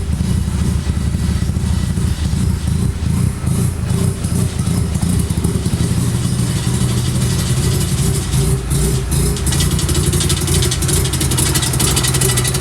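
Mazda RX7 turbo rotary engine running steadily to burn oil off a soaked turbo blanket, a loud, continuous low rumbling drone close by with slight fluctuations and no talk.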